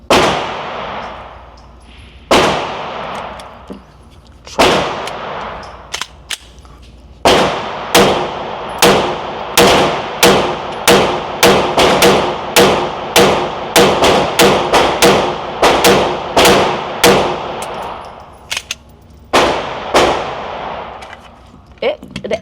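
HK VP9 pistol with an upgraded trigger fired one-handed at a range, loud sharp gunshots, a few spaced shots and then rapid strings of quick reports, each followed by a short ringing decay.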